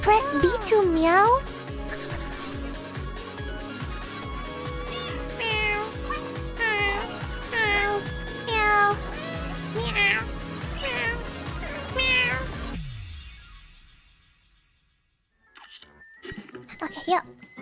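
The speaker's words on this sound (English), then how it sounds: "Press B to meow." Repeated cat meows from a video game, many short rising-falling calls in steady succession over a droning background, ending in near silence with faint game sounds.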